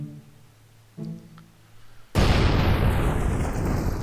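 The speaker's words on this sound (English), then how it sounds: "That counts as an explosion." In Kerbal Space Program, a rocket explodes on the launch pad: after a quiet hum and a low mechanical thud, a sudden loud blast erupts into a long, roaring rumble that stays heavy to the end.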